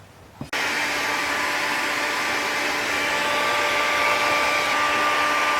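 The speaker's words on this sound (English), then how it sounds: "we wash it right off completely, and then dry it off with a heat gun" A heat gun switches on with a click and blows a steady, loud whooshing roar while drying a washed body panel on a 1969 XW Ford Falcon under restoration.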